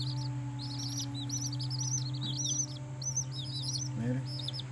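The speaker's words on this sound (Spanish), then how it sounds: "Miren los pollitos bellos." Newborn chicks peep in a brooder, a flurry of high, thin chirps in short bursts over a steady low hum of a heater or fan, close and moderately loud, with a faint voice briefly underneath.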